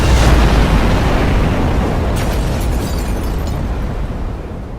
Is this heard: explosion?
yes